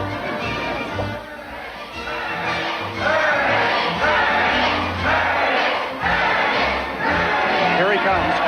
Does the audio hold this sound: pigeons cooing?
no